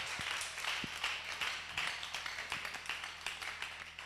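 Scattered applause from a seminar audience at a youth business event, a quiet patter of distant hand claps with a loose, uneven rhythm and no talking.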